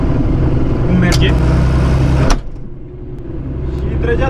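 A farm tractor engine labors under heavy load while sowing, a loud close low rumble that drops off abruptly partway through, then builds back up, with a voice speaking over it.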